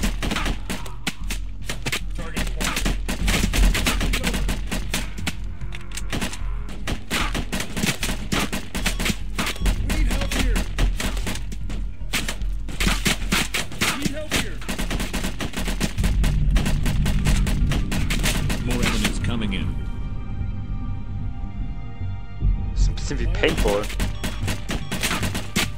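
Machine gun fire from the VR shooter Covert Syndrome clatters in long, fast, sustained bursts, loud and close, with short gaps between volleys and speech mixed in.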